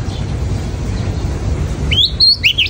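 A long-tailed shrike (cendet) gives a few sharp, high chirps near the end, loud and close over a steady low background hum.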